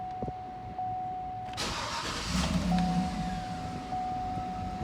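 A car engine cranks and catches after an EVAP canister replacement, then settles into a low idle, heard close by with a faint steady electronic tone beforehand.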